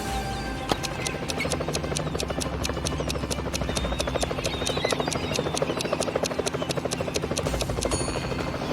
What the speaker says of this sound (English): Today, Steve's flying in a helicopter over the pool to check the situation.